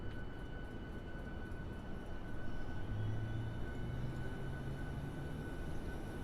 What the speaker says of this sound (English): I'm going to go ahead and spool up the APU.